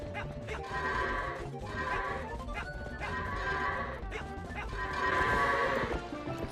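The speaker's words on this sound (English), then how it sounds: "now that we also got Epona, we gotta herd some goats" Goats bleat in repeated wavering cries while being herded on horseback in Zelda: Twilight Princess HD, mixed with game music and hoof-like noise, with a faint voice underneath.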